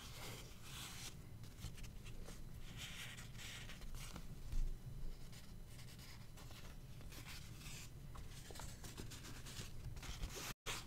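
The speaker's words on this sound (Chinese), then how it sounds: "滤纸的声音很好听？" Paper coffee filter crinkling and rustling as it is handled close up, soft scratchy scrapes and crackles coming in irregular bursts in a quiet room.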